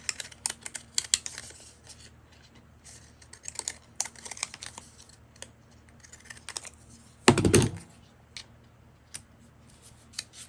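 Scattered small snips and crisp clicks of scissors cutting paper, with a louder, denser burst of rustling and cutting partway through; no talking.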